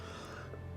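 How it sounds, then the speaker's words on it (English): A single short, sharp cough bursts out near the end after near silence, close and loud. "When I read the number 12, I just cough."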